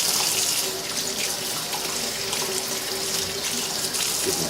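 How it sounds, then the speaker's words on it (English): Tap water runs steadily into a sink while freshly foraged spring plants are rinsed, a continuous close splashing hiss with slight shifts as the items move under the stream. "Give them a rinse."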